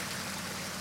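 Rushing, sloshing water as a vehicle drives through a deep river in the Spintires Mudrunner off-road driving game, a steady broadband wash heard alone for under a second.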